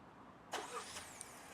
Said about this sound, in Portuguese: Ligou o motor e já está climatizando o interior do veículo.